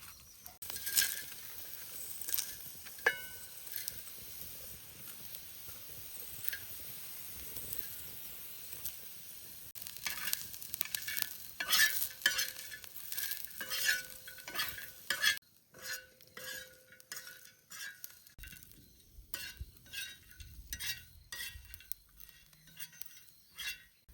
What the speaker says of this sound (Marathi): खोबरं टाकतो थंडा गरम मसाला भुजून घेतो